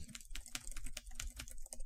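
Rapid, irregular keystrokes on a computer keyboard, close and clear, with a screen reader's keyboard echo not working as expected; no one speaks.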